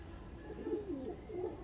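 A pigeon in a breeder's loft coos softly, two low rolling coos in quick succession, faint against a steady background hum.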